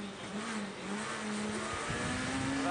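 Onboard a rally car driven by Stéphane Sarrazin on a Rallye Monte Carlo stage, the engine droning loud and steady with pitch shifting as it revs and changes gear, road noise beneath, no talk.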